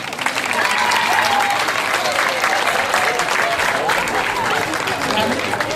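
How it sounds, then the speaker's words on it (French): An audience at a school celebration applauds the teachers with steady, full clapping that holds loud and even from start to finish, with voices in the crowd mixed in. "Je vous demande de les acclamer aussi."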